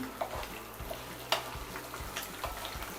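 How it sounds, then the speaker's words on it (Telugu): A ginger mixture with curry leaves and other ingredients fries in a pan for a kanda bachali dish, a steady soft sizzle broken by scraping stirs and a few sharp clicks, close with no talk. "ముకుళ్ళు వేసి ఈ పదార్థాలన్నీ బాగా వేగేదాకా కలిగి పెట్టాలి"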